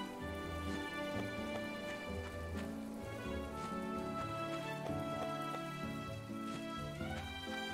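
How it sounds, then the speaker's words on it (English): Rain falls in the farming life-sim game My Time at Portia, a steady patter of drops on surfaces under a soft layer of game music, continuous throughout with no speech. "This is our first rainy day in my time at Portia"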